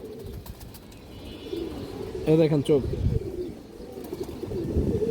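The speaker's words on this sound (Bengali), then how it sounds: "সিলভার বেজি কবুতর" Silver Beji pigeons, a flying breed, give a brief bubbling coo that rises clearly past the halfway point, while someone talks close by over continuous low loft chatter.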